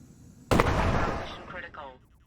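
A pressurized canister explodes in a Stationeers video game cut scene, one sudden loud blast followed by a long rumbling decay and fading debris sounds.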